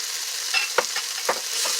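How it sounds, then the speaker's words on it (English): Bacon and mushrooms stirred in a pot for beef stew, a close sizzling hiss with a few quick scraping strokes of a utensil against the pan. "Stir it around."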